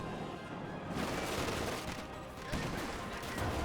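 A Vickers machine gun firing in the video game Company of Heroes 2, a dense, sustained roar of automatic fire mixed with battle noise, steady and loud across the whole stretch.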